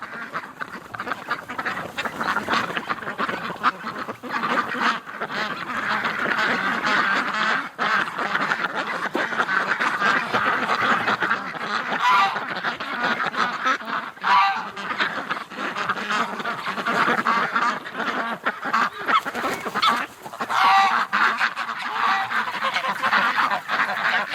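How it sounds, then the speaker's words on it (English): A duck quacks and geese honk outdoors in winter, a busy, continuous stretch of overlapping calls that stays fairly loud, close and steady throughout. "There's Disco Duck for you guys."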